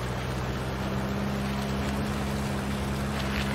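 A vehicle drives in a multiplayer open-world survival video game, its engine a steady low drone with constant hum and faint wind-like hiss, unchanging and fairly loud throughout with no talking.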